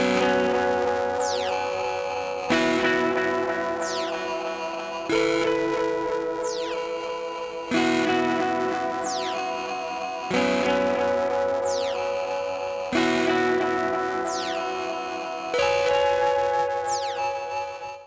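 Guitar chords routed through filters, spring reverb and a ring modulator, struck in a steady pattern about every two and a half seconds, each hit carrying sweeping metallic tones and a splashy reverb tail, no talking.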